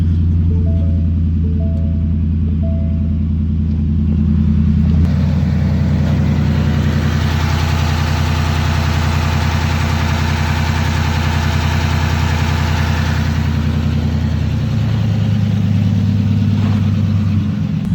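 A Ford F150 engine cranks and catches, rises in a revving surge, then settles back into a steady low idle, loud and close with no talking.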